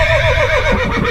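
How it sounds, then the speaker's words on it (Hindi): A horse neighs loudly and close, one sustained whinny with a wavering pitch lasting about a second, over a steady low rumble and no speech. "सरकटा कलवा का बेटा को घोड़े पे लेकर भाग जाता है।"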